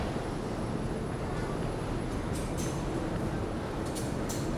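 Steady loud rumble of a New York subway train in a station in Queens, a continuous broadband roar with a couple of brief high squeals or hisses near the end, no clear talk.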